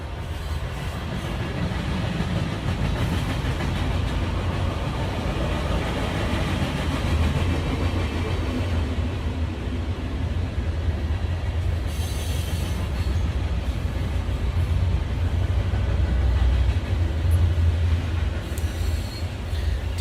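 A train rolls past close to a residence, a loud, continuous rumble and rattle of wheels on rails lasting the whole stretch, with brief high squeals and no one talking.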